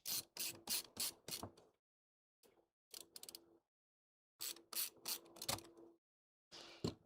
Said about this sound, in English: now fan screws going back in